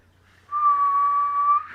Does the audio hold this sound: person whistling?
yes